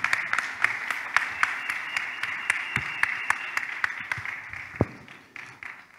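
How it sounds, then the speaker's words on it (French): Applause rises in a church service, a steady patter of many hands with a few sharper slaps standing out, moderately loud and continuing for several seconds before easing off toward the end. "Applaudissons pour le Seigneur."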